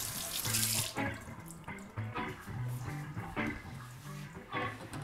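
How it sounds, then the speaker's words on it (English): Cold tap water runs steadily into a kitchen sink to rinse salt-cured salmon for gravlax, a continuous close splashing stream with no break. "We need to rinse this under running water, you know, to get rid of the excess salt."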